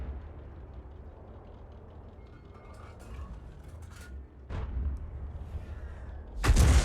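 FV304 self-propelled artillery firing shells in World of Tanks, with a sharp boom midway and a louder blast near the end over a steady low rumble of game ambience.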